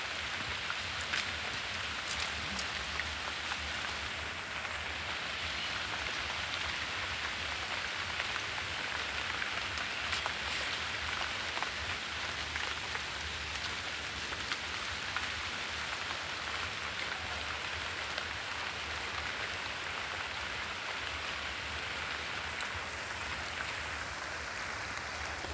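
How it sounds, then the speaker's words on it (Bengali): Heavy rain pours steadily on a May day in Bangladesh, a dense, constant hiss of drops drumming on surfaces close by, unbroken and with no voices. "বৃষ্টি অনেক জোরে এসে পড়েছে, বৃষ্টি এখন আর থাকা যাচ্ছে না।"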